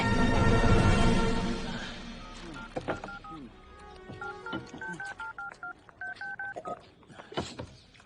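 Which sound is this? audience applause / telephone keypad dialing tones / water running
telephone keypad dialing tones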